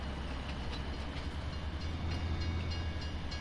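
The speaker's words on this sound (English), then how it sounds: "Train." A train passes in the Farming Simulator video game, a faint, steady rolling rumble with light periodic clicks of wheels on track.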